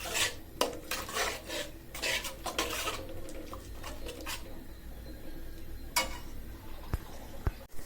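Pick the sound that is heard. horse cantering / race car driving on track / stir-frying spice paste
stir-frying spice paste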